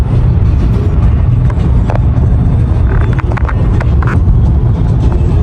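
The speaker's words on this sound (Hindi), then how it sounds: "फ्री होके गाड़ी चला रहे हैं।" A car drives on a highway in heavy rain, making a loud, constant rumble of road and engine noise with a few brief higher swishes and clicks, and no clear talk.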